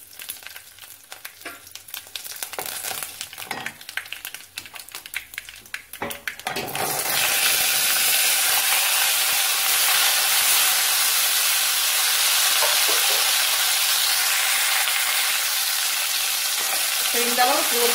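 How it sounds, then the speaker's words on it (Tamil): Curry leaves dropped into hot oil burst into a loud, steady sizzle that starts abruptly partway through and continues alone, after a few quieter handling clatters. "கருவேப்பில போட்டு"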